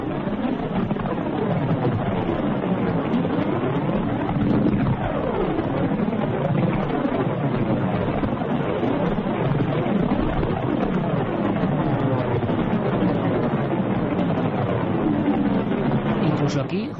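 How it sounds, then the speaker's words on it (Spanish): A recorded space sound of Saturn's rings plays as a steady, eerie wash of sweeping, rising and falling whistling tones, continuous and fairly loud throughout. "anillos de Saturno. Tantas veces los hemos dibujado y esta noche los escuchamos."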